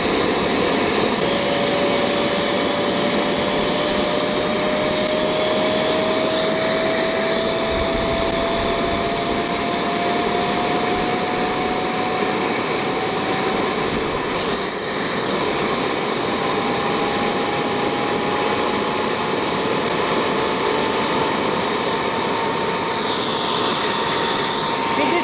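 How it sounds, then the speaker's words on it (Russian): A model jet turbine engine idles at about 32,000 rpm, producing a continuous loud, steady whine and roar with a slowly rising tone throughout, close up and without pause. "Двигатель вышел на холостой режим. 32 тысячи оборотов."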